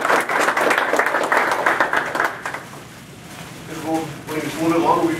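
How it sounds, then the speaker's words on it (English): Audience applause after a government luncheon presentation, loud clapping from a room of listeners that dies away midway, followed by a voice starting to speak. "A round of applause"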